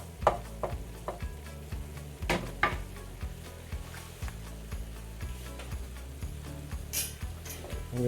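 Ground meat browning in a pan for pasta meat sauce gives a soft, steady sizzle, broken by faint scraping and tapping as it is stirred. No one speaks.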